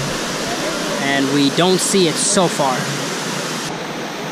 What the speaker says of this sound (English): we found ourselves a nice river